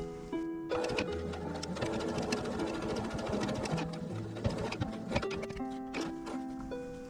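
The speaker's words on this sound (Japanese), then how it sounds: "裏地の部分でここ10センチ 返し口を残して縫っていってください。" A sewing machine stitches the lining of a kindergarten bag with a fast, steady mechanical whirring, close by and fairly quiet, with short changes in pace as it runs.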